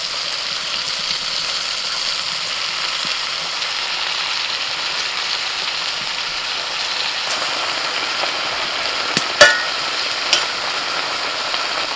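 White leafy greens (note shak) dropped into a pan of vegetables and spices frying for a rustic village-style dish, giving a steady loud hiss and sizzle throughout with a few sharp clatters of utensil on pan near the end.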